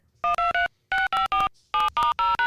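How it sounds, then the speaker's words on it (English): A short voicemail intro jingle on a podcast, built from three clusters of bright, beeping electronic tones that sound like telephone dialing, each cluster made of three quick notes with brief gaps between, clear and close, with no voices. "you're going to hear the intro to the voicemails"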